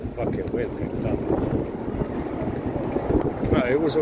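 Steady wind buffeting a microphone outdoors, a continuous low rumble with gusty fluctuations throughout, fairly loud and close.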